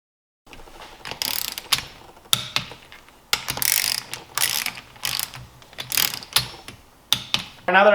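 A torque wrench tightening the cylinder head bolts on a Seadoo 787 engine, a series of short sharp ratcheting bursts in an irregular rhythm, close and clear with no talk.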